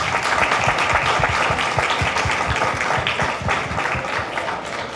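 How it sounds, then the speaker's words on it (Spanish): Audience applause fills the room at a panel event, dense steady clapping from many hands at full strength throughout, easing only slightly toward the end. "Vamos a recibirla con un aplauso."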